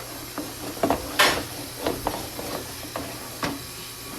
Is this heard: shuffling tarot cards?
no